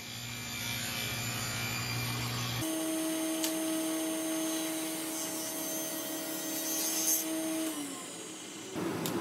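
A power saw rips wooden bow tie inlay stock down to about 3/8 inch thick in a woodshop, a steady whining hum with a high tonal line that runs for several seconds, then winds down and cuts off near the end.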